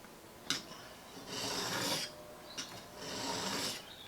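A very blunt knife blade is drawn along its whole bevel on a sharpening stone in two long, steady rasping strokes, each starting with a brief scrape.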